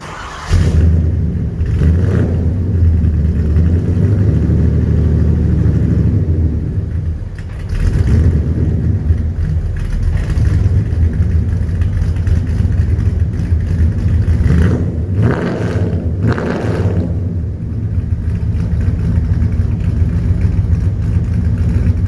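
A big LT1 V8 engine in an El Camino with 3-inch tailpipes rumbles loudly up close, revving repeatedly with deep surges and brief dips back toward a throaty idle through a loud exhaust.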